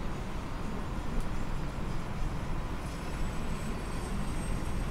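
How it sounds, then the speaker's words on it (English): The auxiliary power unit of a BAe 146 airliner in Microsoft Flight Simulator spools up as a steady, dense broadband roar with a faint high whine, constant and fairly loud throughout with no talking. "So let's start the APU anyway."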